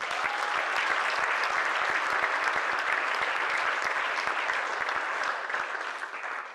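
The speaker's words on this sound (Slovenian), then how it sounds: "Še en aplavz." An audience at a festival event claps in sustained applause, with many sharp individual claps standing out in a dense, even wash that tapers off slightly at the end.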